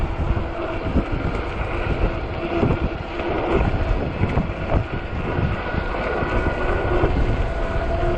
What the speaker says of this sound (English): That wind is very wicked.